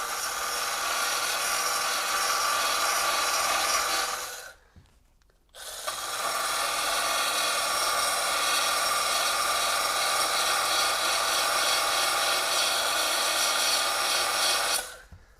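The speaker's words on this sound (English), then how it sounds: "if I needed to grind that seam out of there" Milwaukee M12 Fuel cordless band file grinding a seam, a loud, steady abrasive whir that runs about four seconds, stops briefly, then continues for roughly nine more seconds before cutting off.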